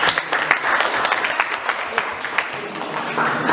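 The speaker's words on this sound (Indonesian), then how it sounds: "tepuk tangan untuk mereka 2 yang sudah jawab" Classroom applause from students clapping for two classmates who answered, a scattered patter of hands at moderate volume with voices talking over it.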